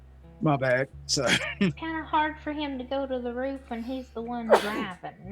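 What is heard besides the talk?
sneeze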